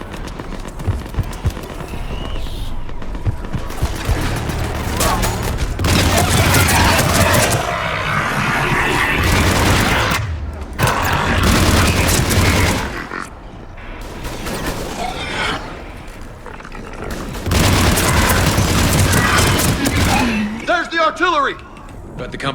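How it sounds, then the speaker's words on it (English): Battlefield in the game Mass Effect 3 with artillery fire and explosions: dense, loud rumbling blasts and mechanical din, breaking off briefly, then resuming, ending in a sweeping electronic beam tone. "Artillery!"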